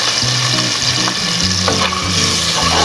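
Chopped onion sizzling loudly in about two tablespoons of hot oil for tempered rice, a dense continuous frying hiss with low stirring thumps of a utensil in the pan throughout.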